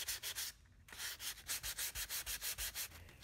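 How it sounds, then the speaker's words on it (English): A sanding block with 320 grit paper rubs back and forth over cured body filler and surrounding paint around a rust repair near a car windshield, giving rhythmic scratchy strokes, close and steady, with one brief pause. "now I am sanding it and the surrounding area with some 320 grit on the sanding block"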